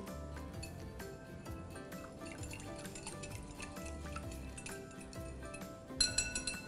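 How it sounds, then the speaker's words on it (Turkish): A utensil stirs 250 grams of water and 50 grams of vegetable oil in a bowl in a test kitchen. Faint, repeated light clinks and scrapes sound at close range, ending in a louder cluster of clatters. "250 gram suyun içerisine 50 gram sıvı yağı ilave edip karıştırıyorum."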